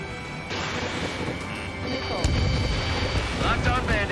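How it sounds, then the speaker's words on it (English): A missile launches from a fighter jet in Ace Combat 7, a loud rushing roar that swells and builds over steady engine and wind noise, with a sharp burst partway through. "Missile away."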